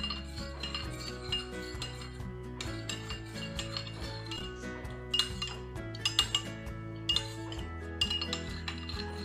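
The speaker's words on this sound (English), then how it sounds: "And then we'll mix this thoroughly." A metal spoon stirs yogurt starter culture into milk in a bowl, scraping and clinking steadily against the sides in quick repeated strokes, close and clear with no talking.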